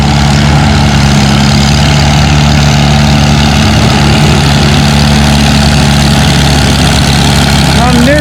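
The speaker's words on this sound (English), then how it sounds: "Our next tractor on the big sled will be a Farmall 300." Farmall 300 tractor engine idling at a tractor pull, a loud steady low rumble with tonal hum throughout, under an announcer's amplified voice.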